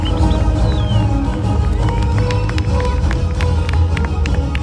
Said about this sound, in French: Vous accueillez, vous applaudissez Cédric Bello.